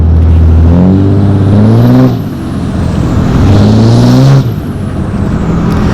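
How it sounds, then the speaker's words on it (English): A 760 hp Cummins diesel truck heard from the cab with the window down: loud engine drone rising in pitch under acceleration, with a high turbo whistle climbing twice, each surge dropping off as the driver shifts. "Let me roll down this window so you guys can hear the turbo."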